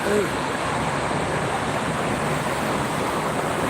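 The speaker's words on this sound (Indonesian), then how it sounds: "Anginnya lumayan nih. Kencang." Strong wind roars steadily and loudly against the microphone beside the Jakarta–Cikampek toll road, a constant dense rush with no gaps.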